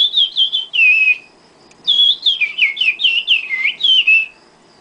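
A woman whistles bird calls with her voice, imitating birds in a rapid series of bright chirping, warbling phrases, loud and close, separated by short pauses.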